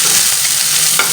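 Onion and garlic frying in a pan, a loud, dense continuous sizzle with light stirring movements throughout, close up and without voices.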